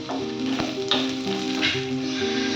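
Close, steady sizzling of chopped garlic and a green chilli frying in ghee in a pan, with a few stirring scrapes and a faint tonal hum underneath.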